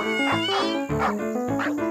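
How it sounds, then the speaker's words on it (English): A cartoon dog barks while chasing a kitten: three loud, close, yelping bursts in a steady rhythm, set against a full background of music. "A dog was chasing after it, and the kitten climbed up a tree to escape."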